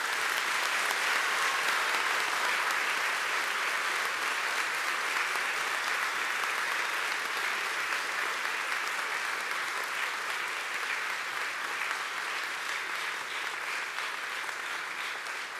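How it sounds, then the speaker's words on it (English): Sustained applause for graduates at the 2023 Fairhaven Baptist College and Academy commencement, a large audience clapping in an even, dense roar that holds steady for the whole stretch without pause. "Let's give them all a round of applause"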